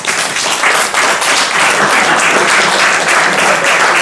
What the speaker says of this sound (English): And start to clap